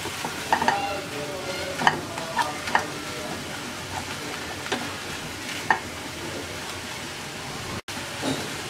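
Bottle gourd leaves cook in a pan to dry off their water, giving a steady low sizzle with scattered stirring scrapes and clicks, close and moderate in volume, with no talking.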